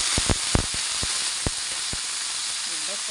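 Marinated duck, seasoned with onion and black pepper, hitting a hot pot, a steady loud hiss and sizzle throughout with a few sharp crackles and pops.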